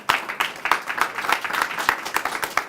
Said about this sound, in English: So just give me a round of applause.